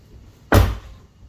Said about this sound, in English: then close the door.